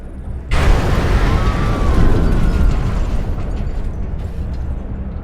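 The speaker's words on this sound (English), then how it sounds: "An explosion, but not one of ours." A sudden, loud explosion in the video game Mars: War Logs bursts in and then rolls on as a deep, sustained roaring rumble that slowly eases.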